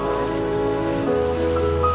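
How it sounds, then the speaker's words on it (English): Ocean waves wash during a small boat ride off southern Thailand, heard as a constant close rush of water mixed with a steady droning hum. "At a business call in town, Kru Bun Yong has to board a small boat and ride the ocean waves for about an hour."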